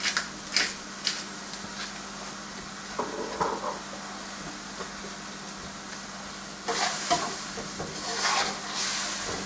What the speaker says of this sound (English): and we'll let them saute down